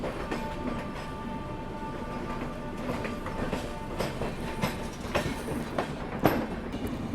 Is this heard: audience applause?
no